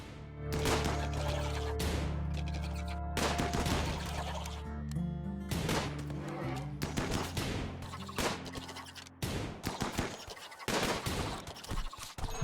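Gunfire in RimWorld: repeated bursts of rapid shots crackle in loud clusters over a sustained low drone, with brief gaps between volleys and no talking.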